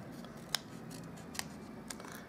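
Scissors cutting paper card along a guide edge, a few short crisp snips spaced apart, close and fairly quiet with no talk.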